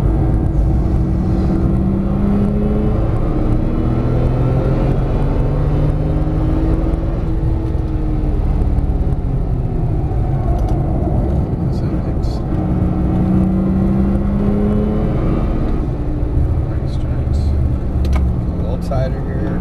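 Porsche 911 Turbo S on a track, its engine droning loudly inside the cabin with rising and falling pitch sweeps as it brakes and shifts down, while people talk over it.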